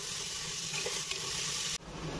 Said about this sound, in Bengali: আর এখানে দেখো কেটে রাখা আলুগুলোকে দিয়ে আমি একটু ভেজে নেব।